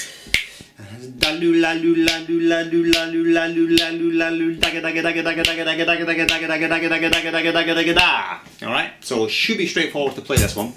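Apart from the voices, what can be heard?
even 32nd-note rhythm subdivision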